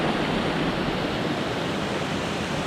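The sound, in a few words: river rapids rushing water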